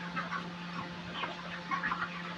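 Chickens at a poultry farm with an automatic feed hopper and nipple drinker lines, giving soft scattered clucks over a steady hum of farm machinery.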